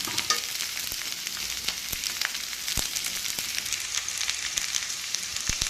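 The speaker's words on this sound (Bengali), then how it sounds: "তেলে জিরে ফোড়ন দিয়ে খুব সুন্দর করে কষিয়ে নেব।" Vegetables sautéing in oil with cumin, a continuous close crackling sizzle with scattered sharp pops and occasional spoon scrapes against the pan, no talking.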